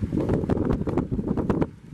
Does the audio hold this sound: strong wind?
yes